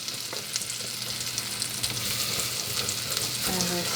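Butter and flour being stirred in a pot while making chicken pot pie, a steady close sizzle with soft scraping strokes running throughout, no talking.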